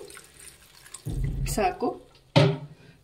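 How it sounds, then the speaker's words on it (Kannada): Water splashes into a pot of chicken in a couple of short pours, with dripping and a brief low voice nearby. "ಒಂದು ಸ್ವಲ್ಪ ನೀರು ಹಾಕ್ಕೊಳ್ಳಿ"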